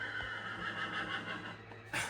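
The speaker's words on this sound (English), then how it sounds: "mind those loud horse noises" A horse neighs in the Minecraft video game, a loud, close whinny running steadily under a hiss of background noise, with a brief burst at the end.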